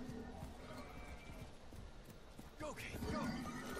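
Horse in the Warframe video game clip-clopping at a steady pace, hooves clattering under a voice, with a neigh near the end.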